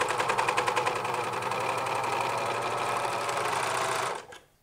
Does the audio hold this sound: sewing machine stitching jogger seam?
yes